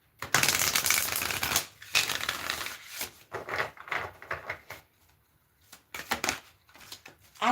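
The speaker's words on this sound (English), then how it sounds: "One more shuffle." A deck of oracle cards is shuffled close by, a long dense riffling burst followed by shorter, irregular bursts of shuffling separated by brief pauses.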